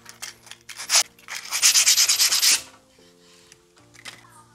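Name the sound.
sanding wood by hand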